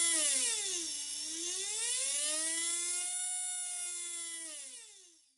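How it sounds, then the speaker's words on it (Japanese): A brushless RC motor driven by an XKK170 ESC whines through its revs, its tone sliding down, climbing again and dipping briefly before fading out. The whine is close, clean and alone, with no talk. "やはりスロットルが半分ぐらいでモーターが全開になるようです"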